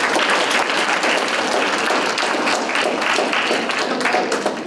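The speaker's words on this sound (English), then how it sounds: "Let's give Dr. Kane another round of applause." An audience at a medical school information session gives Dr. Kane another round of applause, sustained, even clapping from many hands that carries on for several seconds and fades slightly at the end.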